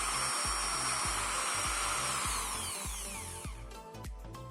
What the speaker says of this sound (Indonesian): Sekarang kita coba untuk menyalakan mesin bor ini ya, seperti apa